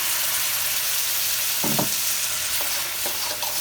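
Teriyaki chicken and shrimp stir-frying in sauce give a steady close sizzle, with a few brief scraping stirs of a utensil partway through.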